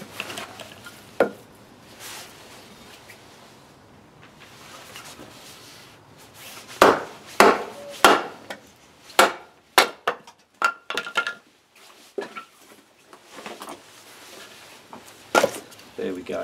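A knife splits a small piece of timber while feather sticks are prepared for fire lighting, giving a run of sharp, close knocks and cracks in irregular bursts after a quieter start.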